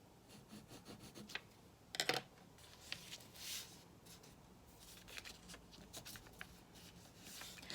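Paper being folded and creased by hand while turning a jumper into a bumbag, a series of soft close crinkles, rubs and brushing strokes, with one sharper rustle near the middle, quiet and without talk.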